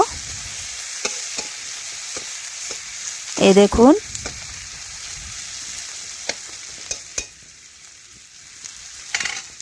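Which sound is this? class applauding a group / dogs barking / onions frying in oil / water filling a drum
onions frying in oil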